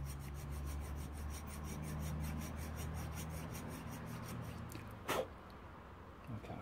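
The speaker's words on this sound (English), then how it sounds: "using a little tiny Junior hacksaw blade just to cut a little tiny slot into the little tiny bit that's remaining" Faint, steady rasping strokes come from a junior hacksaw blade cutting a small slot into the remaining bit of a seized engine part, with a brief louder knock near the end.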